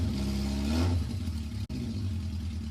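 A Yamaha XJ-series four-cylinder motorcycle from the 1980s revs hard and close, its engine note climbing and then settling back into a steady idle rumble.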